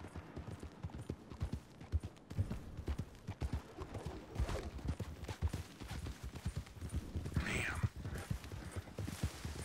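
Hooves clip-clop steadily on the ground as a horse is ridden, a continuous, fairly close rhythmic patter with a brief whinny-like cry near the end and voices talking at times.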